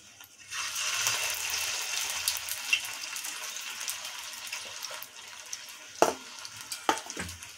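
Sliced potato rings drop into hot white oil in a kadai and fry with a steady, hissing sizzle, broken by a few sharp pops and clinks near the end.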